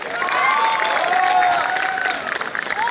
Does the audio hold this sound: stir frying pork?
no